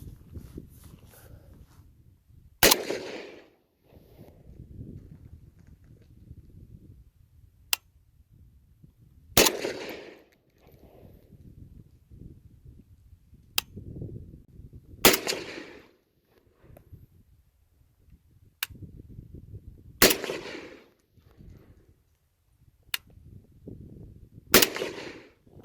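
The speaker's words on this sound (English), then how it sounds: "underfolder iron sighted AK" An underfolder AK rifle with iron sights fires single shots at an outdoor range, five sharp cracks spaced several seconds apart with faint echoes, plus softer distant reports and quiet rustling between them.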